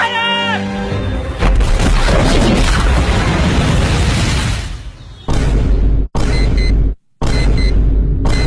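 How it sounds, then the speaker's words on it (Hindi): A bomb explosion sound effect: after a voice, a loud broadband boom rumbles on for several seconds, then cuts into a few abrupt, heavy bursts separated by brief silences. "उस कोऑर्डिनेट्स पे बम गिरा दीजिए"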